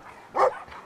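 A single short dog bark in the Brothers: A Tale of Two Sons video game, coming from a puppy. It is one mid-loud yelp in the middle of a quiet stretch.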